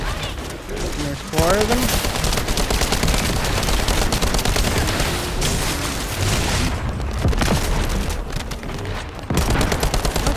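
Rapid bursts of automatic gunfire and booming shots from the video game The First Descendant, loud and continuous throughout, with a brief spoken line over the shooting.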